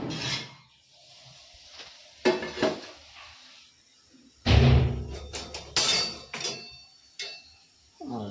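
A spoon scrapes and clinks against a dish as poha with potatoes is served, in a few separate bursts of sharp clattering with quiet gaps between them.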